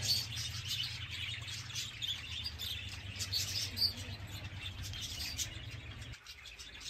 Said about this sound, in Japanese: 道の途中にね、ありえない量の量がありえない数の鳥がいる場所がありまして、